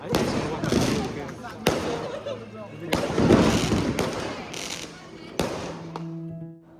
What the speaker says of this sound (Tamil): இங்கே லிம் வீட்டில் இன்னொரு ஒரு வெடியும் வந்து இருக்குது